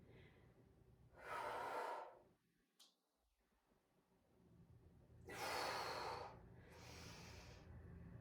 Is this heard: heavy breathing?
yes